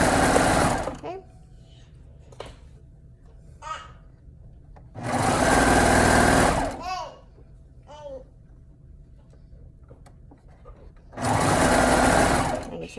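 Sewing machine stitching a neckband onto a garment: three loud bursts of rapid mechanical whirring, separated by quiet stretches where a person talks.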